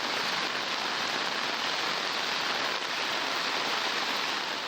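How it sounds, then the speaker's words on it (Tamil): Heavy rain with strong wind pours down over the Theni Periyakulam area in summer, a dense, steady roar of rainfall that stays loud and unbroken throughout with no voices. "தேனி பெரியகுளம் சுற்றுவட்டார பகுதிகளில் 2 மணி நேரத்திற்கும் மேலாக பலத்த காற்றுடன் கனமழை பெய்தது."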